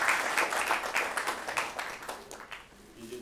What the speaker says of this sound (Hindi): एक बार तालियां बजाने के लिए